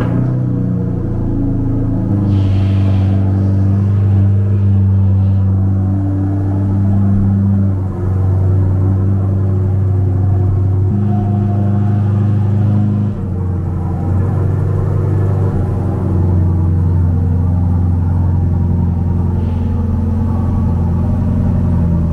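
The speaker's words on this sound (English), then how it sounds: "What do you guys think about the sound of the new exhaust system?" A Chevrolet Corvette C8 with a Paragon exhaust system idles with a loud, steady, deep rumble, the tone shifting slightly now and then without any clear revs.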